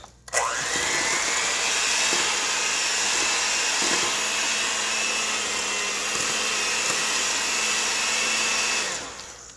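An electric hand mixer whirs through vanilla pound cake batter, starting abruptly and running at a steady high-pitched drone for about nine seconds before winding down, close and loud.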